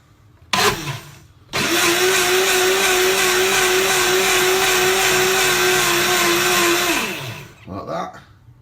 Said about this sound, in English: the next step is we're going to blitz it up. So it's in the blender.